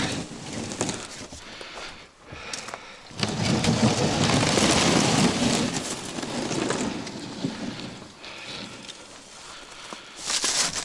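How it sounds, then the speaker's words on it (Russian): An outboard boat motor on a boat frozen into the water cranks and tries to start, with a rough, loud burst of engine noise in the middle that fades, then flares briefly again near the end. "Не знаю, заведется, не заведется вообще двигатель."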